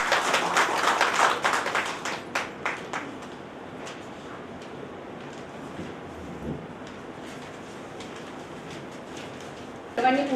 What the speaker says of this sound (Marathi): माननीय मेघराज राजे भोसले यांच्यासाठी एकदा जोरदार टाळ्या